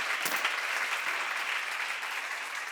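A church congregation claps together in a sustained burst of applause, a dense, close wash of hand claps with no pause.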